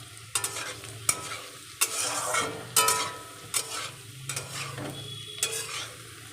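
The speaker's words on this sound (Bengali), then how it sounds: "এদিকে এই যে আলুটাও ভাজা হয়ে এসছে।" Potatoes frying in hot oil in a pan, a steady sizzle broken by sharp scrapes and clinks of a spoon stirring every second or so, close and fairly loud, no talking.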